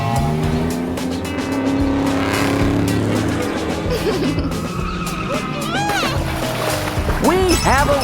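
Cartoon toy cars race along a pool noodle track with loop-de-loops, giving a continuous buzzing engine drone with rising whoops and squealing sweeps near the end, mixed under music.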